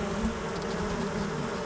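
Honey bees swarm and buzz around an open hive, a dense steady drone held at an even loudness with no voices.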